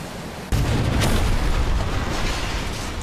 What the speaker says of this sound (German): Und er macht eine große Explosion.